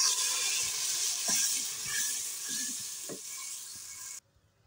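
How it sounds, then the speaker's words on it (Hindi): Ground tomato and green chilli paste frying in oil, a loud steady sizzle with occasional stirring scrapes that stops abruptly near the end, with no talking. "अब हमने जो टमाटर हरी मिर्च पीस कर रखी थी वो भून लेंगे"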